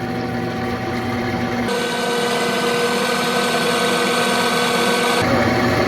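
Cummins Big Cam diesel engine in an AutoCar construction truck runs at a steady idle, a loud continuous mechanical drone with a slight shift in tone partway through and no talk.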